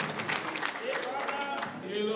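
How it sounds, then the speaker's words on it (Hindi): An audience claps at a speech event in Tashkent, producing a dense, continuous patter of applause that swells and dips slightly across its short span, with voices mixed in. "बजाएं जोरदार ताली, एक ही हाथ मुझे सुना नहीं, ऐसा नहीं कीजिए प्लीज, एक ही हाथ बाकी नहीं है, लंबी ताली बजाएं।"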